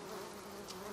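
Bees buzzing in the samurai video game Ghost of Tsushima, a steady, close, droning hum filling the whole second without a break.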